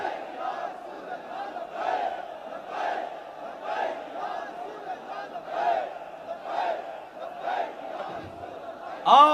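A large crowd chants the takbir slogan in rhythmic unison, repeating the same call about every second, steady and fairly distant.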